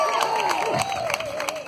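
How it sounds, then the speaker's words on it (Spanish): Crowd at a tribute concert in Tijuana, cheering and clapping steadily for about two seconds, with a sustained musical tone running underneath. "Un aplauso para Josh."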